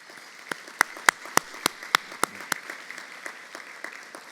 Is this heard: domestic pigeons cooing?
no